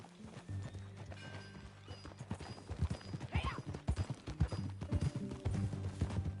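Hooves clip-clop at a steady riding pace in Red Dead Redemption 2, a rhythmic trot building in loudness as the horse moves, with a short whinny partway through over a low game soundtrack.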